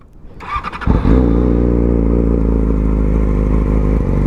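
A sport motorcycle engine cranks briefly on a cold start, then fires and catches, settling into a loud, steady, throbbing idle close by.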